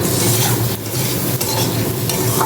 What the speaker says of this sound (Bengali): তিনটে কাঁচা লঙ্কা দিয়েছি দিয়ে কষিয়ে নিই দিয়ে দিলাম আদা বাটা জিরে বাটা